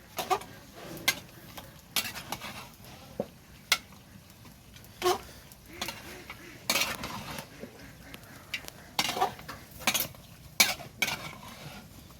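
Duck curry is stirred in a pot over a clay stove at an outdoor village picnic. Irregular scraping clinks and knocks of the spoon against the pot sound over a faint sizzle, with no talking.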